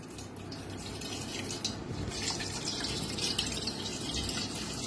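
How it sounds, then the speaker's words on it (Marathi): Water is poured slowly off soaked wheat starch paste in a kitchen vessel, a steady, close trickle and splash running the whole time with no talk. "आता हे पाणी आपल्याला काढून घ्यायचं आहे आणि खाली आपला चिक ठेवायचा आहे"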